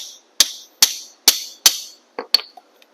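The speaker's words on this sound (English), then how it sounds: "you can go ahead and hit this with a hammer" A hammer strikes a metal socket sitting on the gearbox drain plug of a Talaria MX5 electric dirt bike. Six sharp, ringing metallic hits come at a fairly even pace close to the listener, with no voices.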